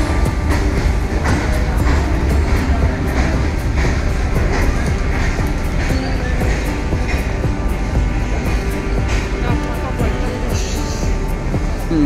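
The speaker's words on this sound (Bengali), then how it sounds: "না এই মালগাড়িতে কয়লা নেই, এটা ভাগা মালগাড়ি যাচ্ছে।" An empty goods train with no coal load rolls past on the Howrah–Dhanbad line: a loud, continuous broadband rumble and rattle of wagons that stays steady throughout.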